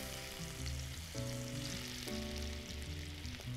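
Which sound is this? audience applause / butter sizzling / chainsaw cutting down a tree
butter sizzling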